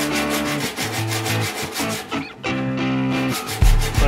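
Steady, rhythmic rubbing strokes of a sanding block with 180 grit sandpaper over primed rolling doors, loud and close with a brief pause midway.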